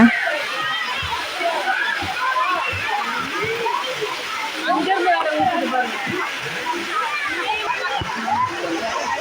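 Water splashing and sloshing steadily at a water ride in an amusement park in Coimbatore, with people wading in the water below. Voices and children's chatter mix into the continuous splashing throughout.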